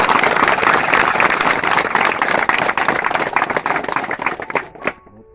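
Loud, continuous applause from an audience at a village gathering in Rashgobindpur Telkundi Tola, with dense clapping that thins out and stops near the end.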